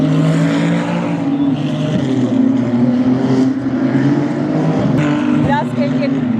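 Cars race around the Formula 1 circuit in Japan, producing a continuous engine roar with passing surges and revving. Spectators talk over the noise nearby.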